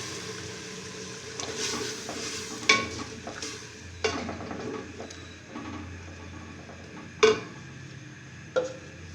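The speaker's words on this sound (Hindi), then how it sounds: "अब इसे उनको हल्का सा चला लेंगे।" Turmeric powder and spices frying in a pot for a qeema dish, stirred with a spoon that scrapes and knocks against the metal several times over a steady, soft sizzle.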